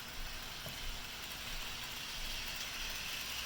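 A 1980s Bachmann Union Pacific 4-8-4 model locomotive runs at speed around the track, giving a steady whirring, ratcheting mechanical drone with no pauses and no talk.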